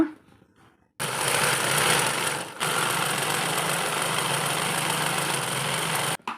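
A sewing machine stitches a band onto a fabric lunch bag, starting after a quiet second with a steady close mechanical whir, a brief pause, then another long continuous run that stops abruptly.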